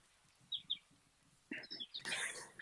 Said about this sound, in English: I love the birds behind you.